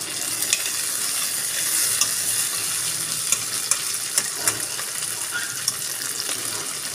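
Chopped tomato hits a pan of onion, ginger, garlic and green chili for a chicken handi, giving a steady loud sizzle with occasional clicks of stirring, no talk.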